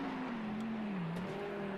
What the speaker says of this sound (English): we ride on board of Callum Paul Banks on lap 8, going down the Bridgestone straight